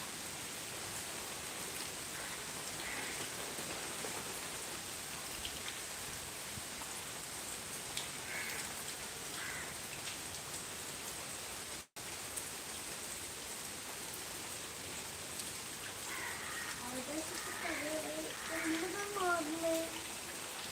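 Soft, steady rain falls throughout, a constant wash of patter, with a brief break and faint voices or sounds near the end.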